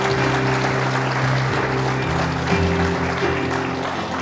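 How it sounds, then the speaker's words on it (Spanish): A church congregation applauds in a continuous wash of clapping, mixed with sustained keyboard or organ chords playing under it at a steady, fairly loud level. "Sí, aplauda al Señor."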